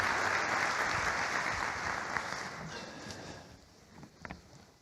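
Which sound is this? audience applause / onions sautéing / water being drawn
audience applause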